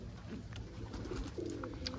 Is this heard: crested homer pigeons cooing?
yes